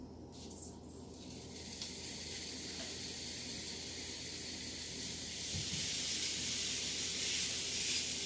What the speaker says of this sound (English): I can hear a sizzle.